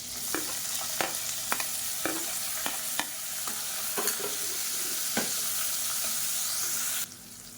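Sliced big onions and fennel seeds fry in oil for a soya chunks kurma, giving a constant sizzle. Sharp clicks and scrapes from stirring come at irregular intervals, and the sizzle cuts out near the end.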